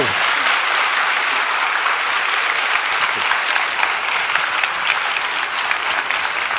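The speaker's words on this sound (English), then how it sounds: "let's give a warm round of applause" Loud, dense applause from a large audience at a Hideo Kojima Q&A session, a continuous wash of many hands clapping with no pause and no speech.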